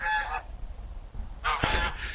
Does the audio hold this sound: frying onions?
no